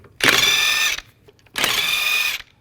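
A 22mm socket on a power tool spins lug nuts off the rear wheel of a 2010–2017 Chevrolet Equinox in two close, loud whirring bursts of under a second each, separated by a short pause, with no talk.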